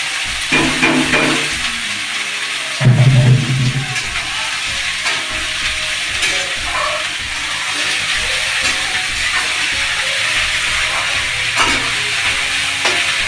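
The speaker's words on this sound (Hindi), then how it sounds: "आब एहिमे हम डालि रहल छी प्याज" Chopped onion frying in a pan as the base for a chicken leg curry, a steady close sizzle and hiss with a brief stirring clatter early on, continuing evenly without talk.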